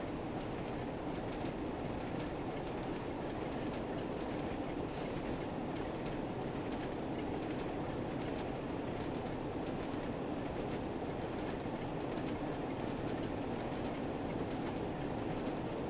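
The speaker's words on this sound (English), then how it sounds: "The clickety clack." Train wheels clicking over rail joints in Train Sim World 3 on London commuter and Northern Trans Pennine routes, a steady rolling rumble with rhythmic clickety-clack throughout, continuous and even with no voices.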